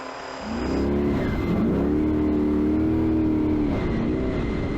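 Trophy truck engine on the Baja 1000 course along the coast of the Baja Peninsula, a loud close roar that rises quickly and holds a steady high-revving drone with a brief dip in pitch.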